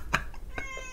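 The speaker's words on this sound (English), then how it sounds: "All right, so the cat's back." A cat meows three times in a room, each call short and fairly close, spaced about half a second apart against a quiet background.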